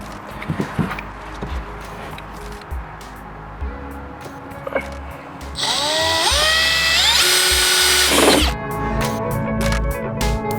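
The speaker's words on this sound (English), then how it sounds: "we're going to drill 2 1-inch holes" A power drill whirs in a rising, steady burst while drilling 1-inch holes, after scattered clicks and knocks, close by with no talking.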